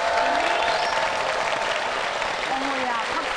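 A studio audience at a televised debate show breaks into loud, dense applause and crowd noise, sustained throughout, with voices faintly mixed in.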